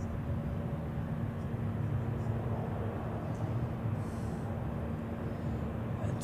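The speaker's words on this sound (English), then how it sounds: "Following the Delta is Royal Air Maroc with a 737" A Royal Air Maroc Boeing 737 airliner at Zurich Airport gives a steady, broad engine roar with a low hum, held evenly at moderate distance for the whole stretch with no clear rise or fade.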